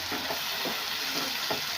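Jackfruit seed masala curry frying in a pan, a steady hiss of sizzling oil with soft, evenly spaced scraping strokes as it is stirred.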